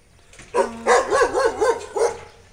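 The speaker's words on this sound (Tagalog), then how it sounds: "Ay, ang aso." A dog outdoors near a mountain subdivision gives a quick run of five or six sharp, close barks with a brief pause before the last yip.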